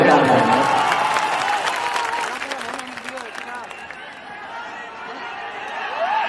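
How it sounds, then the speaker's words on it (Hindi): A crowd at an election rally applauds, with scattered clapping mixed with voices and chatter, loud at first and then easing slightly before swelling again near the end. "एक बार ताली बजा के"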